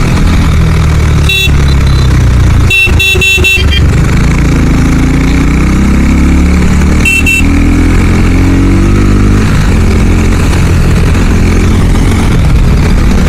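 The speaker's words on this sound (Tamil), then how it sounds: "ஸோ இந்த எக்ஸாஸ்ட் நோட் கேட்கும்போது எனக்கு அவ்வளோ வித்தியாசமாக இருந்தது." A KTM RC390 BS6 motorcycle engine runs steadily, its loud exhaust note droning close by for the whole stretch with a few sharp rattling bursts over it.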